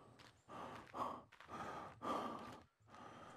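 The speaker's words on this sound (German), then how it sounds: "Der keucht mir hier ins Ohr." A worn-out character in the survival game The Forest pants heavily, with four or five long, rasping breaths in a steady rhythm close to the ear and no talking.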